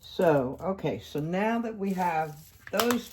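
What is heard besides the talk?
No everyday noise stands out behind the speech.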